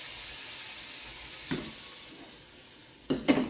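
A little butter sizzles in a pan over high heat, a soft continuous hiss that fades slightly, with one brief clatter midway and a couple of louder knocks near the end.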